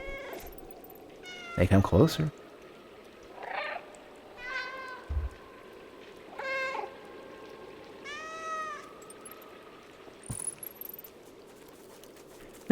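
A cat in the video game Stray meows repeatedly, several clear rising and falling cries spaced apart, with someone briefly talking near the start.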